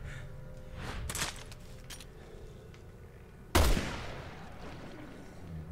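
A single loud gunshot in the horror video game Resident Evil Revelations 2 cracks out sharply and fades with a lingering tail. Quieter game ambience and fainter noises come before it.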